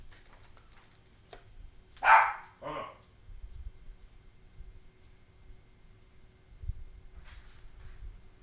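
A dog gives two quick barks at moderate distance in a quiet room, with a faint yip a few seconds later and low background noise.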